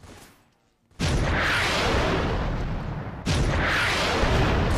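A rocket launcher explosion in the Roblox Fortnite Simulator game bursts in loud and booming after a brief quiet, rumbles on, then a second heavy blast follows near the end.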